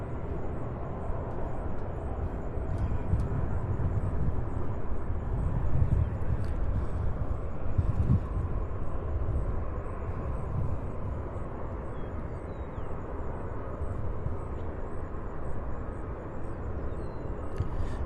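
A Boeing 747 at Louisville airport gives off a low, steady rumble at a distance that swells and eases over a long stretch, with faint high ticking above it and no voices.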